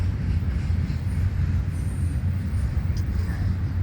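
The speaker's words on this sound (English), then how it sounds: "This is a combination train." A combination freight train hauled by multiple locomotives rumbles past in flat Florida country, with a continuous heavy low roar and faint high squeals.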